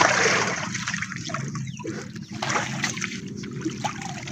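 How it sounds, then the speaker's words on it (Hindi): Water runs and trickles steadily, splashing faintly nearby, with a soft background rumble and no clear talk. "पानी बंद कर"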